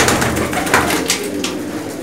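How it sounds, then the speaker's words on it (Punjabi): Pigeons belonging to a noted pigeon-keeping family in Punjab coo softly and steadily at close range, a low murmuring that runs through the whole stretch with no voices. "ਕਾਫੀ ਖੂਬਸੂਰਤ ਕਬੂਤਰ ਹੈ ਜੀ ਇਹਨਾਂ ਦੇ"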